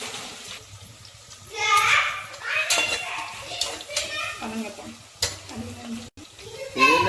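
Sizzling and frying in a pan, a steady crackle with stirring and utensil clinks, while people talk over it.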